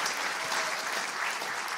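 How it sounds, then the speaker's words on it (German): A church congregation applauding steadily, dense clapping that fills the whole moment with no voices over it. "Nochmal einen ganz, ganz kräftigen Applaus für ihn."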